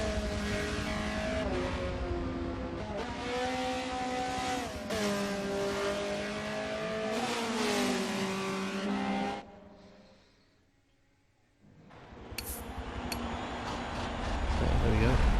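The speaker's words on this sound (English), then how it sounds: "We're watching the race winner Ashley Phil go around as he's just waiting for the race to go now" A touring car engine in a racing video game lap at Watkins Glen revs and shifts repeatedly, loud and close, then fades to near silence before a burst of noise returns; a commentator talks over it.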